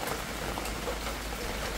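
Steady summer rain falling outdoors on a garden of potted plants and flowers: a dense, even hiss of drops throughout, with no voices.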